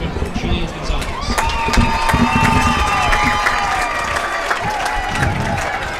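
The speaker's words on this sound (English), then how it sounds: "Please give a round of applause for homecoming court member Julian Gonzalez." A crowd at a high school homecoming football game cheers and claps for a homecoming court member, loud and sustained, with shouting voices and whistles mixed in and a voice over the public address.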